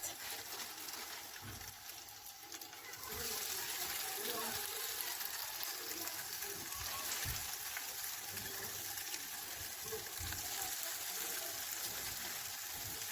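A beef burger patty goes into a hot non-stick grill pan. After a quieter start, a steady hissing sizzle rises and holds close and even, while a voice talks softly.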